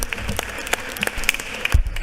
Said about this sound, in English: Please give her a round of applause for being here.